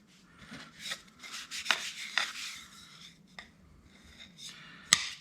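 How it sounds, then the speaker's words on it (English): A towel rubs over a graphite-coated part of an REO Spartan 700 pedestal light, making soft, uneven scrubbing strokes with a few sharper squeaks and taps, close and fairly quiet, with no talking. "finish burnishing it up real shiny"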